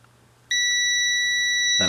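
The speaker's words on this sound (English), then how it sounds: "and I get continuity and I get a tone" A continuity tester gives a sudden steady high-pitched beep as its probes touch together, clean and close, holding for over a second before a short burst of noise at the end.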